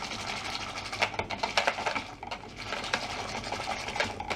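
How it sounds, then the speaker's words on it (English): A whisk beats steadily in a pan as xanthan gum goes into a lemon chicken sauce, giving a fast, even rattling stir close up with no talking. "so that's the 3/4 teaspoon of the xanthan gum, and I say just want to whisk that in"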